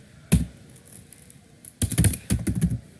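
Fast bursts of key clicks on a computer keyboard while code is typed for a desktop calculator application: one early tap, then a dense flurry of clattering keystrokes after a pause, close and alone.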